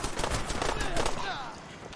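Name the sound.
gunfire from enemy gunners in video game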